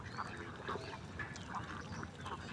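Egg-laying ducks suffering a mild cold quack in a flock, several faint, slightly distant calls repeating in an irregular rhythm over a low background hum.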